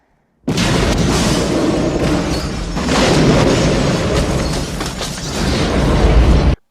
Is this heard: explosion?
yes